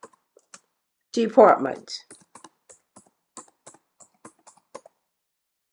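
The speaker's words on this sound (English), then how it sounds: "we're going to type Finance" Keys clicking on a computer keyboard in short, evenly spaced taps, close and fairly quiet, with a brief burst of speech just before the typing run.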